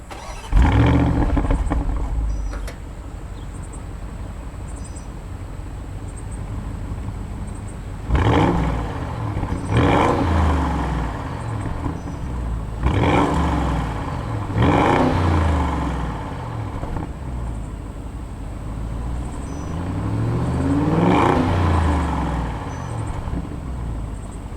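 A 500 hp 2021 Audi SQ7 SUV engine roars and revs repeatedly through its quad exhaust outlets, each rev swelling and falling away, with a deep throaty exhaust note between bursts.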